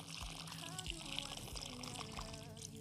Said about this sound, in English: Now you gently water them because you need your plants to be very...